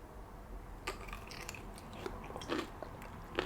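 Crunchy bites into a big, very salty pickle, with several crisp crunches and chewing sounds spread across a few seconds, close to the mic and fairly quiet, with no talking.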